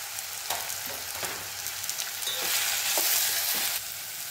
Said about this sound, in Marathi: कांदा टोमॅटो छान परतून झाला की यामध्ये घालायचा चिरलेला भोपळा.